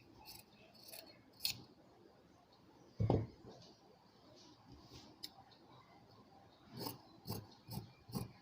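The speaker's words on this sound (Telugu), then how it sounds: "మనం క్రాస్ కటింగ్కి క్రాస్గానే కట్ చేసుకోవాల్సి ఉంటుంది" Scissors cutting blouse fabric crosswise into a narrow neck strip: a handful of sharp, close snips come in separate bursts, with one heavier thud near the middle and a quick cluster of cuts toward the end.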